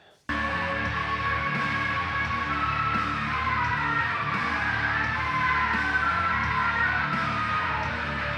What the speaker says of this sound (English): I think he's probably sampled a scream, and that's what he uses